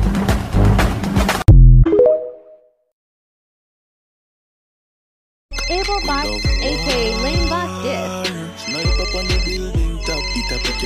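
A telephone ringtone plays loudly in a repeating electronic melody, breaking in after a burst of rough background sound and a stretch of silence, with no talk over it.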